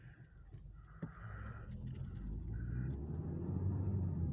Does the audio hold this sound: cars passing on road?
yes